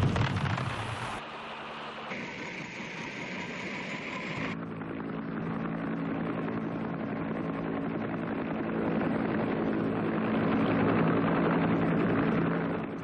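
Huey Cobra helicopter gunship flying, a steady droning engine and rotor roar that holds for the whole stretch and grows slightly louder toward the end, with no talk.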